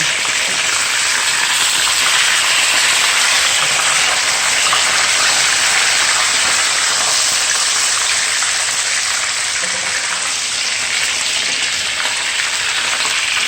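Tilapia fish frying in a pot, giving off a loud, steady sizzling hiss that runs unbroken from start to finish with no talking.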